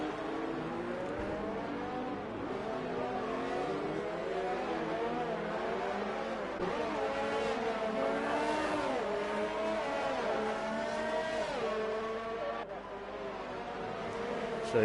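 Racing cars in the F1 2019 video game run slowly in a pack behind the safety car at the Monaco Grand Prix, a steady layered engine drone with shifting pitches and occasional revs, with commentary running over it.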